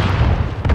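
A grenade blast in Call of Duty Modern Warfare, a short heavy boom with rumbling low-end, loud and close, briefly tailing off.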